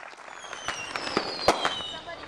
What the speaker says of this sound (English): the McCook Optimist firework display brought the perfect ending to a patriotic and inspiring Independence Day celebration and reunion